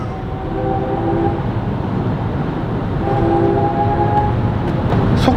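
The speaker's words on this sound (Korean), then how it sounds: "이 가상 액티브 사운드가 처음으로 좋게 느껴져 갖고" Kia EV6 GT-Line accelerating with its virtual active sound engaged, a steady synthetic droning tone over road rumble that swells and rises in pitch, with faint clicks near the end.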